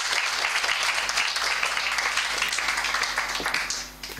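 Steady applause from a gathered audience at a Christian event, greeting a man introduced to the stage; dense clapping at even loudness, dropping off near the end.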